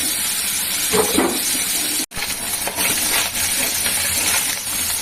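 Small morala fish frying in hot oil in a pan, a steady hiss of sizzling with a few brief clinks, broken by a short silent gap midway.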